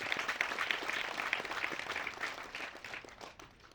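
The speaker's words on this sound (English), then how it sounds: "Clap for yourselves." Audience applause at a half marathon event with 597 participants, a steady patter of many hands clapping that fades toward the end.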